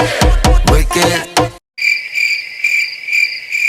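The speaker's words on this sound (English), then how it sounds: "Okay, the crickets aren't even laughing." Crickets chirping as a sound effect, a steady bright trill that follows a short stretch of loud rhythmic beats and a brief silence, carrying on clearly and evenly to the end.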